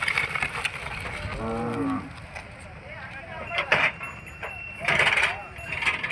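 Bulls moo in a few drawn-out calls amid a noisy outdoor crowd at a livestock market in Gadag, Karnataka, with people talking throughout.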